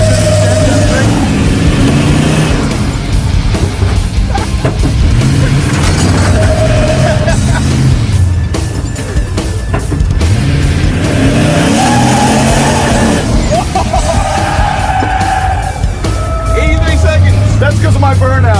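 A car doing a burnout during a Power Tour road event, its engine revving hard and rising and falling in pitch amid tire noise, loud and close, with people talking and shouting over it.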